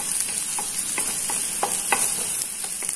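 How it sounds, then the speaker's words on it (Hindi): Chopped garlic and ginger fry for restaurant-style butter chicken, a loud close sizzle under rhythmic stirring scrapes of a spoon in the pan, with no voices. "इसको हल्का सा भून लेंगे"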